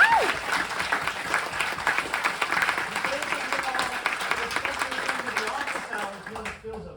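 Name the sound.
audience applauding black belt promotion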